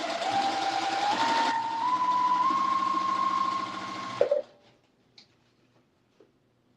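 A home sewing machine runs steadily for about four seconds while stitching cotton fabric cuts, with a rising motor whine, then stops, leaving a few faint clicks and handling taps in near silence.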